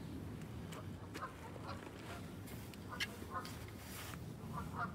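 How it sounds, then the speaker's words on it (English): A duck on a pond gives several faint, scattered quacks over a low outdoor rumble, distant and intermittent. "Oh, there's a duck in there."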